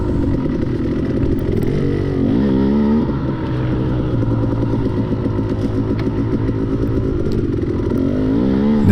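A KTM 250XC two-stroke dirt bike ridden through tight, unbroken wooded trail during a cross-country race, its engine buzzing loud and close throughout with constant throttle swells and revs, no voices.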